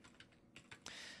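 A computer keyboard being typed on, several soft scattered keystrokes followed by a brighter rapid burst near the end, quiet and close with no voices.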